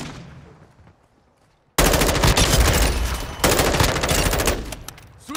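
Call of Duty Modern Warfare II gunfire, loud sustained machine-gun bursts that erupt suddenly after a quiet lead-in and keep hammering close by, with a brief surge partway through.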